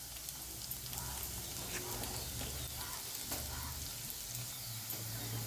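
Raw peanuts fry in oil alongside potatoes, giving a steady, soft, even sizzle that runs throughout with faint occasional ticks and light stirring, fairly quiet and distant.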